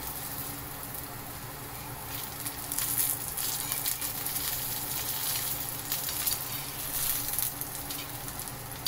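Stuffed okra (bhindi) roasting on its second side in a pan, giving a steady, moderate sizzle and soft crackle that continues evenly throughout, with no talking.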